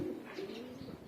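Female pigeons cooing softly in a short, low, throaty phrase, faint and close, with no talk over it.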